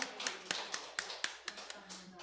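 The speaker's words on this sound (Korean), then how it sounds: "박수." Applause in a church during a Wednesday morning service, heard as a sparse run of distinct claps spaced roughly every quarter second, fairly close and crisp, with faint voices in the background.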